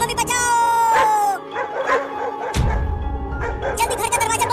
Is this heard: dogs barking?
yes